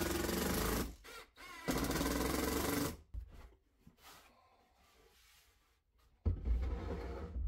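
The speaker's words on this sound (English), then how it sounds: "make some pilot holes in the bottom and drive in a couple of screws" A power driver whirs in three loud bursts, near and alone, as screws go through pilot holes into the base of a wooden table saw crosscut sled, with quieter gaps between the bursts.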